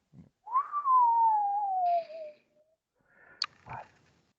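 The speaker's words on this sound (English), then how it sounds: "lets out a long, low whistle of appreciation" A single long, low whistle glides slowly downward for nearly two seconds, close and fairly soft, in a quiet room, followed by a few faint clicks and small sounds.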